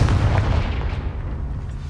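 A Confringo spell blast in the Hogwarts Legacy video game: a single heavy booming burst with a rumbling tail that fades over about two seconds, loud and close.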